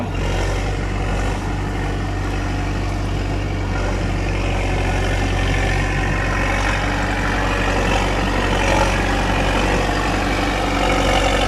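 A D50A bulldozer dragging felled rubber wood logs across soft, muddy ground in the rainy season, its heavy diesel engine giving a loud, steady, low drone throughout with no voices.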